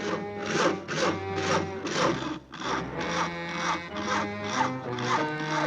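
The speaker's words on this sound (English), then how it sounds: "Isn't that your house Harry is sawing on" Rhythmic back-and-forth sawing through wood, strokes steady and evenly spaced, close by with a brief pause midway.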